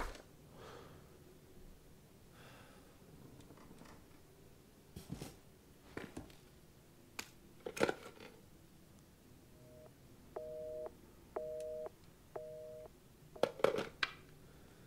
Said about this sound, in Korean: 전화 한번 계속 두드려 볼까요?